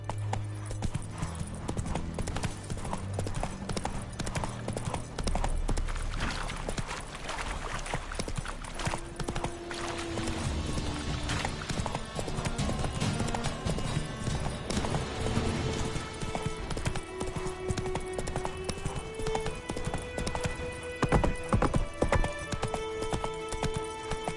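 Horse hooves clip-clop at a steady galloping rhythm in The Witcher 3, continuous and fairly close, with a brief whinny and layered game music underneath throughout.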